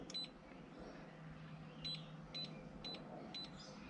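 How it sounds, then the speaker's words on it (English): A boat EPIRB emergency beacon under test gives about five short, faint, high-pitched beeps spaced irregularly over a few seconds against quiet background noise. "It flashes and beeps a couple of times"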